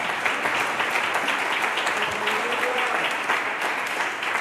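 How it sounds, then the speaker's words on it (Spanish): A church congregation applauds the Lord during a sermon, a steady, even burst of many hands clapping that fills the space for a few seconds. "aplauda al Señor en esta tarde"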